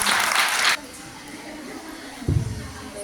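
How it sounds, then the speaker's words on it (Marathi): Applause from an audience cheering a group of girls after a Marathi poem performance, a loud burst of clapping that cuts off abruptly after under a second, followed by quiet room noise and a brief low thump. "त्या मुलींच्यासाठी जरा जोरदार टाळ्या वाजवा."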